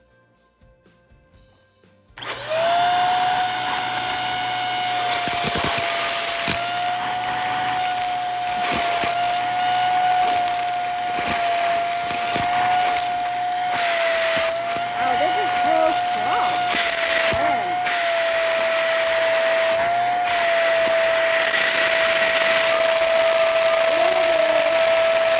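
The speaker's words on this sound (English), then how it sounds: "So I clip it back onto the vacuum cleaner and use this opening, the big opening." A Dirt Devil Scorpion Plus hand vacuum starts with a click and runs with a steady high-pitched whine, close and loud, while it sucks up honey wheat puffs with small rattles and pitch dips throughout.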